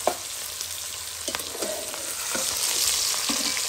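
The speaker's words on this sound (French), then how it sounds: "Laisse les oignons faire son micmac dans le marmite de l'huile là. Avec saucisse." Onions and sausage fry in hot oil in a cooking pot, a steady close sizzle with occasional stirring scrapes and crackles, growing slightly louder, with no talking.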